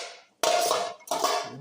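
A steel plate clanks twice into a steaming pot while Marathi-style mixed-dal bhaji is being cooked, two sharp metallic impacts with short ringing decays, close and moderately loud.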